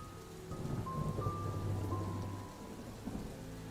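Rain and rolling thunder form the ambience of a tabletop role-playing session, a steady wash of rainfall with a low, swelling rumble through the middle and no voices.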